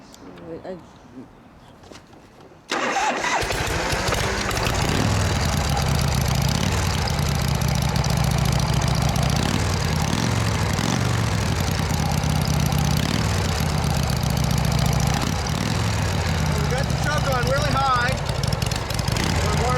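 A 1981 Harley-Davidson FXS Lowrider with original carburetors starts after a quiet moment, then idles loudly and steadily with a rough, loping pulse that continues to the end.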